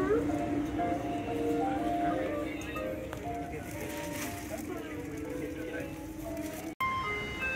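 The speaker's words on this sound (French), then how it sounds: "Camion de poubelle." A Japanese garbage truck on a street in Japan plays its chiming jingle melody, a steady tonal tune carried over a low engine rumble and street noise, moderately near and continuous, with a brief cut just before the end.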